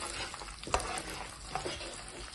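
Urad dal and chana dal frying in oil in a pan for cucumber chutney, giving a steady close sizzle with a couple of brief stirring scrapes.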